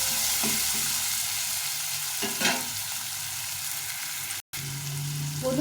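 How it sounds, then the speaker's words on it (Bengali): Onions fry in a pan until reddish-brown with a bay leaf, for a duck egg and cauliflower curry, giving a steady close sizzle with a few soft stirring scrapes and a brief dropout near the end. "পেঁয়াজটা ভেজে নিলাম পেঁয়াজটাকে লাল লাল করে ভেজে নিতে হবে"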